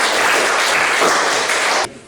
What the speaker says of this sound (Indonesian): Mari kita beri aplaus tepuk tangan untuk.